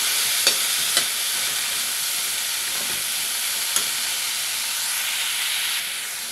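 Pumpkin pieces sizzle steadily in a pan for a Telugu pumpkin chutney, with a continuous frying hiss and a few sharp spoon scrapes as the pieces are stirred; no one speaks.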